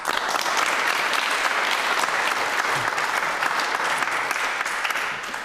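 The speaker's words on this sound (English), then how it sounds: "that question gets a round of applause" Question Time studio audience applauding after a question from the floor, dense sustained clapping at an even level that tails off slightly at the end.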